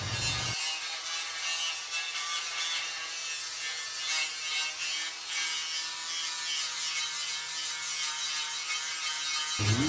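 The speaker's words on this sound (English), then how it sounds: "Grind it all down to bare metal as far in as I can, both sides" Steady abrasive grinding on the frame joints of an 87 Ford Ranger truck, taking them down to bare metal, runs loud and unbroken at close range, with a rough, hissing texture and no speech.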